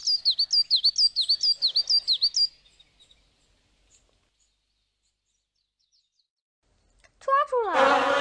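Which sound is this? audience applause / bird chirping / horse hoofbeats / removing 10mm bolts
bird chirping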